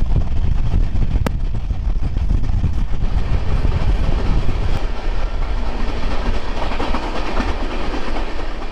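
A passenger train running toward Punjab rumbles loudly and continuously on its rails, with rhythmic clatter of wheels over track joints heard from close by inside or alongside the carriages.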